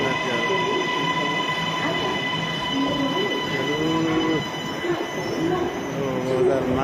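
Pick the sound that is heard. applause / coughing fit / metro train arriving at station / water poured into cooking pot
metro train arriving at station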